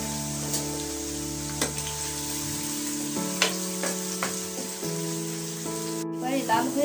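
About a cup of onions frying in a cup of oil for Bangladeshi white pulao, giving a steady, fairly soft sizzle with a few light stirring taps. A faint background hum runs underneath.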